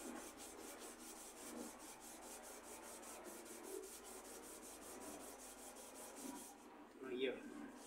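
A wooden rod is rubbed with sandpaper in steady, rhythmic rasping strokes that continue close and even throughout, with a brief louder scrape near the end.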